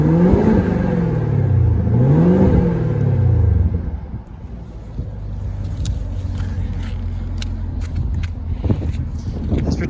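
The engine of a 2019 Chevrolet Camaro ZL1 revs twice, rising and falling loudly, then settles into a deep, steady idle rumble with some faint clicks nearby.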